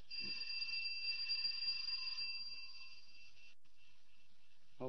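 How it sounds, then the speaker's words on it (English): A steady electric bell rings continuously for about three seconds, then stops, followed by a brief knock-like sound at the end. "I'll try the bell."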